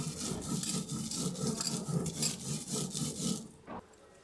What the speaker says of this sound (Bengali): সমস্তগুলোকে খুব সুন্দর করে কিন্তু বেটে নিচ্ছি